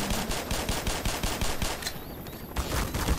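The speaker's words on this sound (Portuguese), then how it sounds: "Atira com uma metralhadora aí" Rapid automatic gunfire from a machine gun in the video game Half-Life, a dense rhythmic burst of repeated shots that keeps going with a short break in the middle, loud and close with no talking.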